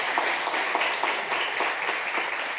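Round of applause for a speaker at a legislative oversight committee hearing; steady, moderately loud clapping from a room of people continues throughout, with no voice over it.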